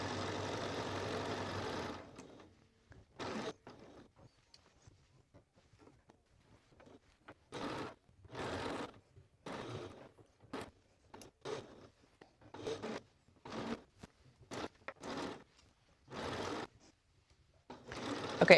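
Bursts of a domestic sewing machine stitching a dress, pivoting at the straps and center front: short runs of rapid stitching separated by pauses, close and clear, with no talk.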